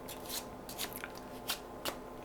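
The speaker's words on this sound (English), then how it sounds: "and then you shuffle off the rest" Playing cards being shuffled overhand in several quick riffles, crisp fluttering bursts close by with short pauses between them.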